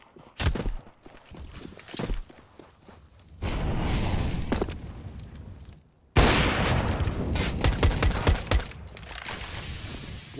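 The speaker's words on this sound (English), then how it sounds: "There we see it, the auto shotgun." An auto shotgun fires in Counter-Strike on the dust2 map, with sharp, close shots in short bursts separated by brief gaps, mixed with other game noise.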